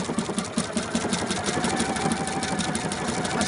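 A home sewing machine stitches a reflective band with glow thread and a size 80 needle, making a steady, fast, faint chattering whir close at hand, with no voices.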